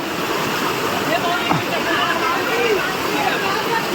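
Bhaskar (Umbarde) waterfall near Nashik in the monsoon roars as a steady, broad rush of falling water, with people talking faintly in the background.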